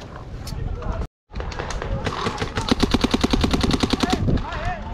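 Paintball markers, including a Shocktech Cocker, firing during a paintball game: a rapid, evenly spaced string of sharp pops at close range, with people talking loudly over the shots.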